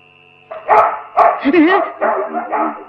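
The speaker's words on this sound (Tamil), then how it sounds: "அம்மா, நாய் நம்ம நாய்ங்களா இல்ல போலீஸ் நாய்ங்களா?" Dogs bark in a quick series of loud, close yaps and barks over a steady background tone, with a whining, pitch-bending yelp partway through.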